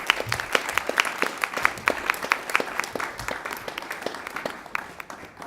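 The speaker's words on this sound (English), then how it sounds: "let's give them a round of applause" Small round of applause at a school board meeting, a modest group clapping in a steady, slightly uneven rhythm from a short distance, tapering off gradually.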